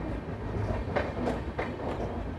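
YPR-LUR Express train entering Vikarabad Junction, a steady rumbling roll with a few rhythmic wheel clacks heard from on board.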